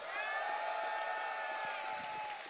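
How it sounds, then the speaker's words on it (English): Crowd applause and cheering at the PAX West 2019 stage, a sustained even roar of clapping with a faint ringing tone running through it, dense and steady throughout. "Can we please give her a big round of applause?"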